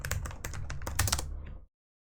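Fingers type a web search on a computer keyboard, producing a quick burst of close, crisp key clicks that stops abruptly, with no speech.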